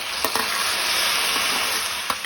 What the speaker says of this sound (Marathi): कांदो बरो तळसून जालो तातून हांव टोमॅटो घालता